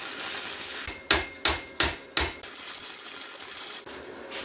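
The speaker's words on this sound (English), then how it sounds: "I'll have to kind of pound things a little bit with a hammer to get them to fit where I want them to." Hammer blows on a metal exhaust pipe being forced into fit: four sharp, evenly spaced strikes close by, with scraping and shop noise before and after, plus a faint fifth knock near the end.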